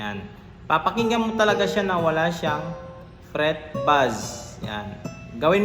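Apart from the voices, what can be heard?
No everyday noise stands out behind the speech.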